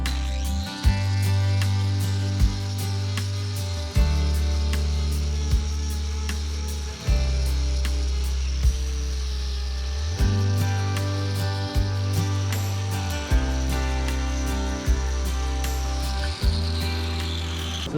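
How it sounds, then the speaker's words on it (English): An angle grinder levels the horn of a cow's hoof in close, loud bursts that cut off and start again several times, with brief pauses between the runs. "we're going to use the grinder again, just to level it up"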